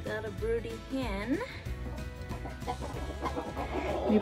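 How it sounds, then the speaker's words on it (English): A broody hen in a backyard garden clucks and makes rising warbling calls, close by, while a person talks over her throughout. "So we've got a broody hen."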